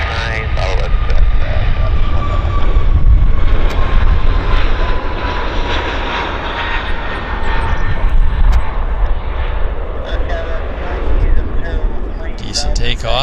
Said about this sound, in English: Decent takeoff.